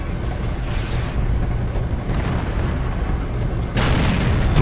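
Nashorn tank destroyer gun shot in World of Tanks, with a rumbling battlefield din of booms and engine noise, then a sudden loud, broad blast near the end.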